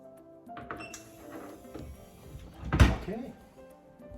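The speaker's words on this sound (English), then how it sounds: "let's try to open the door." A cabinet door held by a Habit Control child safety lock is opened with small clicks and rattles, then one sharp knock of the latch. A voice talks over part of it.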